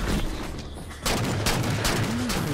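Gunfire rings out in a Halo 4 firefight, a quiet stretch giving way after a second to sustained loud bursts of shots with a battle din and a brief electronic whine near the end.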